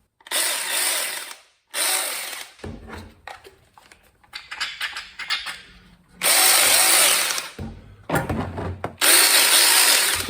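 A GPED mini chain saw, a small handheld saw, runs loudly in repeated bursts of harsh buzzing, with quieter clattering and handling noises in the gaps between them.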